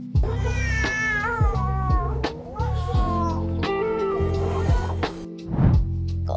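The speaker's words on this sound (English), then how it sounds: "this is my newest cat video" An AI-generated cat voices a string of drawn-out, wavering meows and caterwauls over a steady musical backing, loud and close throughout.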